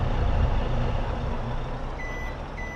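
Truck in the video game Farming Simulator 22 reversing under a heavy engine rumble, with a couple of high electronic backup beeps near the end.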